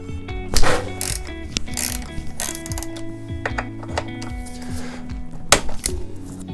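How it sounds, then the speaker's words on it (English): Brake caliper bolts are removed from a BMW R80ST motorcycle with a ratchet wrench, which clicks in quick close bursts with metallic clinks between the turns. "now take the bolts that hold it in place off."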